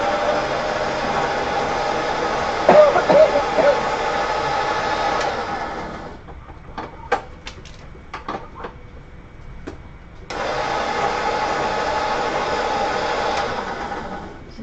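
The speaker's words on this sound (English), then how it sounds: "So we're going to freshly grind that." An electric grinder freshly grinding flax seeds, a loud steady whirring drone that cuts out midway, leaving scattered clicks and taps, before the motor whirs back up to full strength.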